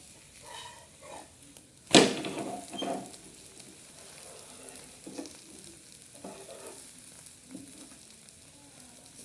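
A bread omelette fries in a pan with a soft, continuous sizzle, broken by a sharp scrape or clatter near the start and a few quieter stirring and tapping sounds, close by and with no speech.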